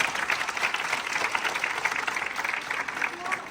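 Audience at a stage-fear talk claps steadily, a dense wash of many hands sustained throughout at moderate level.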